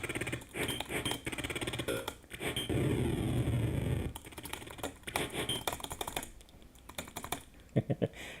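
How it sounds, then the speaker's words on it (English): Rapid clicking of keys on a small Mac keyboard as commands are typed, close and busy in bursts, with a brief louder stretch of other noise in the middle. "I can't type my commands as well on it as I can with my big keyboard."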